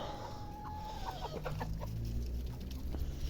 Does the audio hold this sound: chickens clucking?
yes